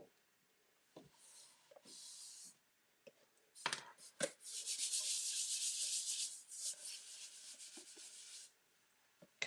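Glue being spread with a scrap piece of wood: close, dry scraping and rubbing strokes, a few short swipes and then a longer, louder sustained smear, all fairly quiet with no talking.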